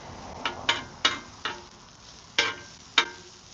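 Jalapeno and onion fry in a pan on a wood burning stove, giving a soft sizzle with several sharp scraping or stirring strokes spaced irregularly at close range, with no voices.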